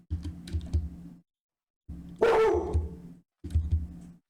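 A skittish puppy barks in short bursts indoors, with three separate clusters of sharp yaps broken by silent gaps. The middle burst is louder and carries a higher yelp.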